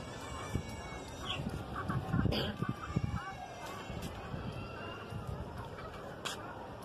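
Hens and a rooster clucking while pecking at millet grain, scattered soft clucks and a few sharper calls, fairly quiet with faint voices in the background.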